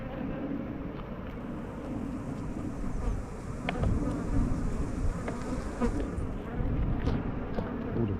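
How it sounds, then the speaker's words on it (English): Many honeybees fan on the floor of a farm hive during an early-season inspection, making a dense, continuous buzzing hum close by, with light wind noise and a few louder passing buzzes. "All the bees on the floor fanning"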